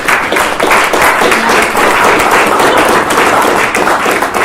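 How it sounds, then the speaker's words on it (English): Audience applause at a city council candidate forum in Kingman, a steady, dense clapping from a room full of people, loud and continuous for several seconds with no talk over it. "May we please have a round of applause for our candidates."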